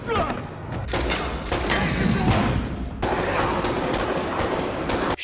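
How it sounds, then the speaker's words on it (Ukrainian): Bursts of rapid gunfire crackle and thump amid a busy action-film mix, shots and impacts continuing steadily throughout, from a scene of men shooting at vampires. "Бад і Снуп, е, Бад і біг Джон знову вимушені відстрілюватися від вампіряк."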